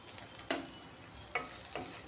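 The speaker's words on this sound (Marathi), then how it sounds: "इथे मी कढई ठेवली, त्यामध्ये तेल टाकले. कांदा टाकते मी." Onion fries in oil in a kadhai, a low steady sizzle punctuated by three sharp stirring scrapes, close and quiet with no voices.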